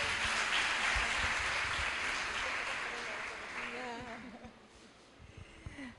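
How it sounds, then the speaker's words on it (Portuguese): A church congregation at a congress applauding, a dense wash of clapping that starts full and gradually fades as a voice takes over. "Você pode dar um aplauso ao Senhor?"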